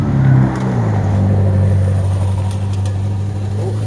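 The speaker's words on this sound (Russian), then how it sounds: "Ух ты, поехал на красавице машине" A Ferrari sports car pulls away nearby, its engine a loud, steady low drone that rises briefly and then holds as the car moves off.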